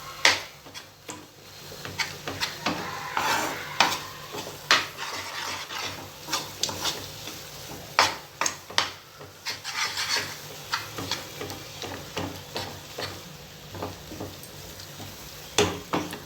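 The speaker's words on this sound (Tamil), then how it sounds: "நம்ம இதை அப்படியே லோ ஃப்ளேமில் வச்சுட்டே கிண்டி கொடுத்துக்கிட்டே இருக்கணும்." Moong dal halwa paste with wheat flour is stirred in a pan over a low flame, giving repeated scraping and rubbing strokes with occasional knocks of the spoon against the pan. The sounds are close and irregular, with no voices.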